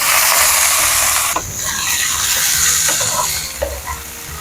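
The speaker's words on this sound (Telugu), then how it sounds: "టమాటా పచ్చిమిర్చి ఫ్రై అయిందేమో చూద్దాం ఒకసారి." Tomato and green chilli fry in a pan with a steady sizzle and hiss while a utensil stirs them, scraping and clacking against the metal at intervals.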